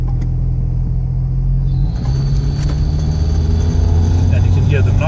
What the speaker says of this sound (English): And you can hear the knock, it sounds like clattering.